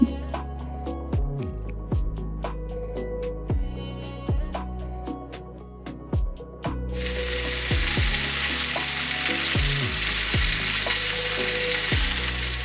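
Chicken for chicken Alfredo seasoned with adobo and garlic-herb sears in a pan; clanks and clicks of handling come first, then a loud, steady broadband sizzle fills the second half.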